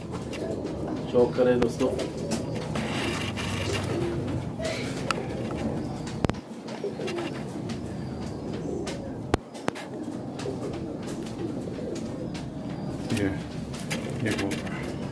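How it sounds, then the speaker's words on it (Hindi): Pigeons coo repeatedly in soft, low calls among other birds, with people talking throughout and occasional sharp clicks and knocks. "ये कबूतर, ये हमारे उड़े हुए कबूतर है।"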